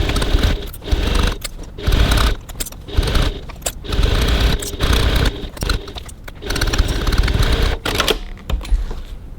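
A sewing machine with a 2.4 stitch length sewing fabric for a handbag, running in short choppy bursts of rapid clattering stitches with brief pauses between them.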